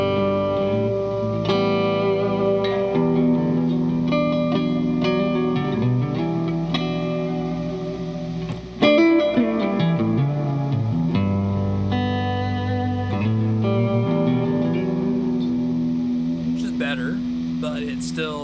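A seven-string electric guitar with a Sustainiac pickup, run through a Mesa Boogie Mark IV amp, plays sustained, ringing chords and notes with some bends, held at a steady moderate level with no talk over it.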